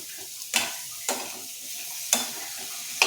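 Pirandai (adamant creeper) sautéed in a pan: four sharp, separate stirring scrapes land over a quiet background sizzle, close and alone.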